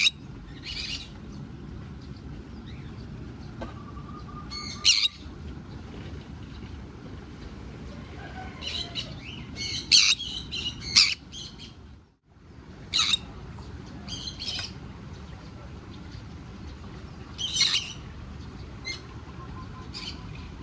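Two birds perched on a person in Thailand let out sharp, scattered squawks and chirps in short bursts over a quiet background hum, with one brief dropout partway through.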